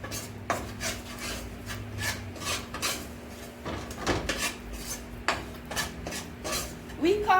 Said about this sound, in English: We're browning the flour.